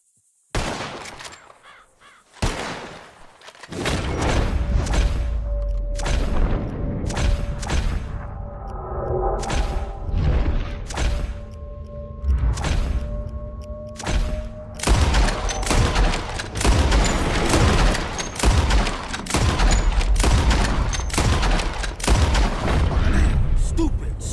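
Rapid gunshots fired at birds in the Red Dead Redemption 2 video game, sharp loud cracks coming singly at first and then in dense overlapping volleys, with crows cawing amid the firing.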